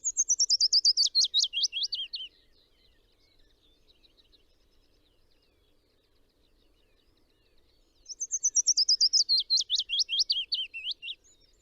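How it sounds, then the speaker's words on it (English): Willow warbler song comes in two clear, bright phrases, each a descending run of sweet whistled notes about two seconds long, separated by several seconds of near silence. "Let's have a listen to a willow warbler song."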